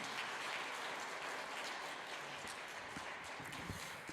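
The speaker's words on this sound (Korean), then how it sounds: "큰 박수로 맞이해 주시기 바랍니다." An audience in a Catholic church hall applauds to welcome a piano trio of pianist, violinist and cellist to the stage at a reading concert, a faint, dense, continuous wash of clapping with a few low thumps.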